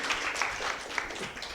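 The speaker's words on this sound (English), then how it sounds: "So please clap for Judy." Audience clapping at an Africa protein summit session, a short, faint patter of applause from a modest group, thin and distant in a large room.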